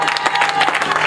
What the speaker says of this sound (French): Tu peux acclamer le Seigneur s'il vous plaît